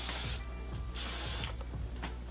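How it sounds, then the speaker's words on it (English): Kenra Dry Thickening Spray hisses onto hair in two short, close bursts about half a second each, separated by faint clicks and rustling. "So I'm gonna just spray this all over my head basically."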